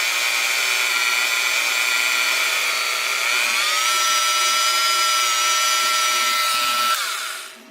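A power tool polishes a pubic-hair keychain, a loud continuous high whine that holds steady, dips slightly in pitch, then winds down at the end, close and alone.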